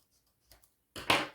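A paper sticker sheet being cut, with a brief soft snip followed by a louder, close scissor-like slice lasting a fraction of a second in quiet surroundings.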